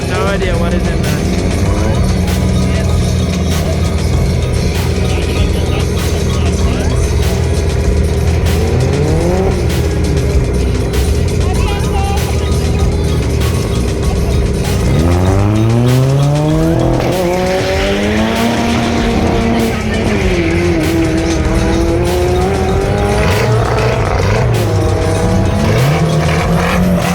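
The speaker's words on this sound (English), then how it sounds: "power Nissan DX versus a Corsa" A Nissan DX races a Corsa at The Rock Raceway in South Africa, engines droning and revving through rising and falling gear changes, tires squealing as the cars close in, with a voice talking over the racing.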